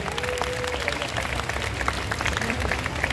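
Moderate audience applause for the jury at a cosplay show at Japan Expo Centre, continuous and somewhat distant, with a faint voice briefly underneath.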